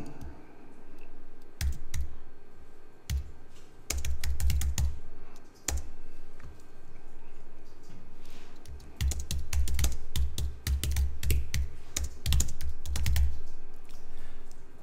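Bursts of clicky typing on a computer keyboard, quick irregular keystrokes in clusters separated by short pauses, close to the microphone.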